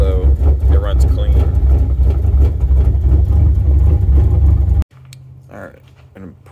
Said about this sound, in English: Sounds like it's missing a cylinder. When you rev it up though, it runs clean.